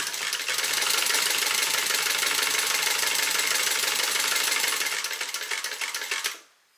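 A sewing machine runs steadily, stitching a slip pocket onto a bag with contrasting thread, a fast continuous mechanical whir that holds nearly seven seconds before stopping abruptly.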